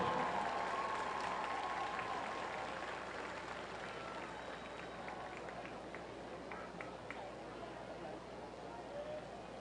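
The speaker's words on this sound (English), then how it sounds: "give a big round of applause for the 2025 Stony Point High School homecoming court." A crowd in the stands at a Stony Point High School football game against Cedar Ridge applauds the homecoming court, a broad distant roar of clapping and cheering that gradually tapers off, with murmuring voices underneath.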